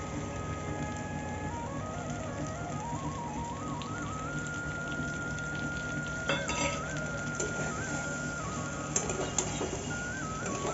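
Fish pieces fry in hot oil in a pan, in a dish cooked with taro stolons. A constant dense sizzle runs throughout, with faint kitchen clinks and no talk.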